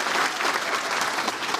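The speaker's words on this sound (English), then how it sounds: "Please give her a round of applause as well." A crowd at a workforce development summit breaks into loud, dense applause, many hands clapping close and steady with no pauses.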